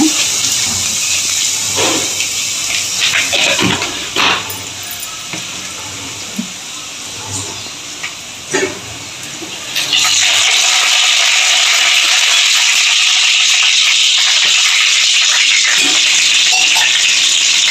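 Vadagam dropped into hot oil for a village-style fish curry gives a steady, loud sizzle and crackle. It runs with clinks and handling noises for the first ten seconds, then settles into a dense, unbroken frying hiss.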